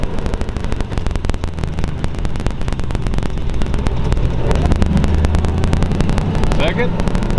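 A 1932 Ford steel roadster hot rod with a hopped-up flathead V8 drives along, its engine a loud, steady rumble mixed with wind buffeting, while someone talks over it.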